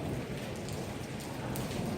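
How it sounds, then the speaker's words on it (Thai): Steady rain falling in Madrid, a dense continuous patter of drops on surfaces at an even, moderate level throughout, with no voices. "วันนี้ฝนตกที่เมืองมาดริด"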